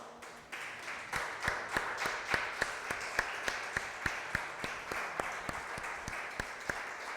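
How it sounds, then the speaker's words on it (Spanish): A church congregation claps in unison, giving a regular beat of sharp hand claps over a softer bed of scattered clapping that stays moderately distant and steady throughout. "¿Le puedo dar un aplauso al Señor?"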